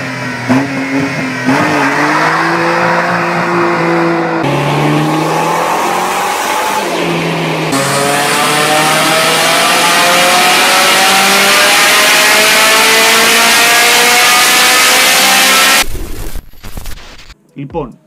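Renault 5 from the 1990s, its engine revving hard with rising and falling pitch sweeps and tires squealing, loud and close, ending abruptly near the end of the stretch.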